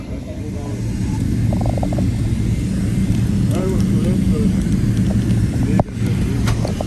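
An Emirates Boeing 777 airliner taxis toward its takeoff position, a steady, broad engine drone that holds evenly throughout, with a brief dip near the end.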